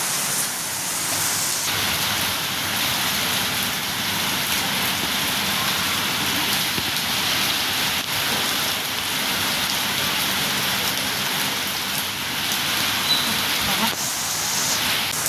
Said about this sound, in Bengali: ঝমঝম করে বৃষ্টি নেমেছে।